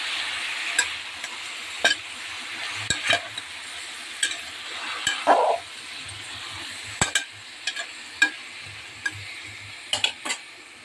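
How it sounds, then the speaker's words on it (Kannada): A paste of tomato, onion and garlic being stirred into mixed vegetables frying in a pan: a soft continuous sizzle under repeated sharp clinks and scrapes of a utensil against the pan at an irregular rhythm, close and without talk. "ಅದನ್ನು ಹಾಕ್ತೀನಿ. ಹಾಕಿ ಚೆನ್ನಾಗಿ ಮಿಕ್ಸ್ ಮಾಡಿ."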